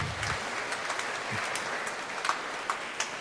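A congregation at a Catholic Mass claps as a soft, diffuse wash of applause that sounds somewhat distant. It holds steady for a few seconds, with a handful of sharper individual claps standing out near the end.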